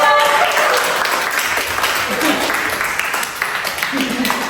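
An audience at a learning and digital innovation event claps briefly, a moderately loud patter of hands with some voices mixed in underneath.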